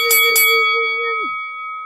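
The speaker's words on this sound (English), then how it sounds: "hit that notification bell" Notification bell chime, a bright synthetic ding struck twice in quick succession, then a sustained ringing tone that fades out after about a second, loud and alone with no talk.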